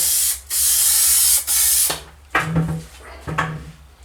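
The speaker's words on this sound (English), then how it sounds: "hit it very lightly with the spray glue" Two long hissing bursts of spray glue from an aerosol can, then a few shorter softer sprays with quiet handling sounds between them.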